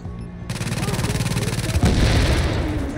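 Automatic turret and grenade gunfire in The Division, a dense, loud burst of rapid shots starting after a short pause and continuing steadily, thickening near the end.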